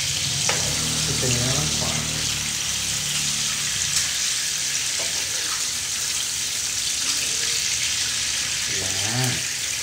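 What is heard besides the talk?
onion frying in a pan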